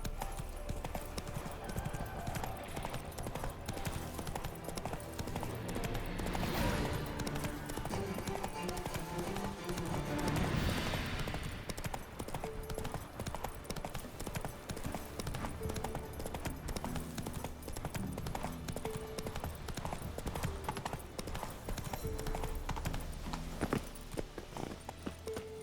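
A horse gallops in The Witcher 3, its hooves clip-clopping in a fast continuous rhythm under game ambience and music, with a brief voice.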